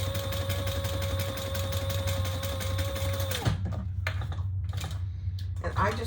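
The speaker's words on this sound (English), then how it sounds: "And I just went over my previous stitching that was there." A sewing machine runs steadily while stitching back over earlier stitching on a wallet, a close, even mechanical whir with a faint whine that stops partway through, followed by light handling clicks and rustles.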